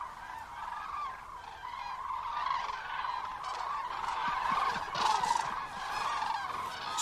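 Common cranes flying over the interior of the Iberian Peninsula call out with repeated honking, trumpeting cries that overlap in a moderately distant, steady chorus.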